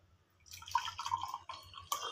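A blended dry-fruit milkshake, fresh from the mixer, is poured into a glass. After a quiet start comes a close, wet, splashing stream of liquid that runs for under two seconds with a short pause, and no one talks.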